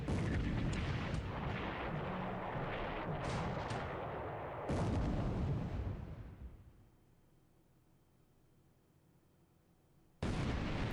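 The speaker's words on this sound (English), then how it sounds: "Achilles took a 5-inch shell hit" Naval shell hits in the War in the Pacific video game: loud, rumbling booms and blasts, with a sharp heavy impact midway, then a quiet lull before another blast at the end. No one talks.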